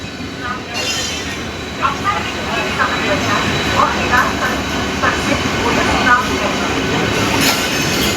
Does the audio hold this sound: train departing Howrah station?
yes